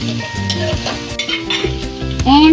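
Spareribs and aromatics for nilagang stir-fried in a hot pan, with steady sizzling under repeated scraping strokes of a spoon or spatula, loud and close throughout.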